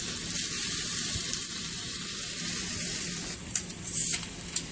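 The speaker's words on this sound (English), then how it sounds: "we're going to let those brown for about another 2 to 3 minutes" Chicken pieces for chicken cacciatore sizzle steadily as they brown in a hot pan, a dense continuous frying hiss with a few sharper pops and crackles near the end, no voices.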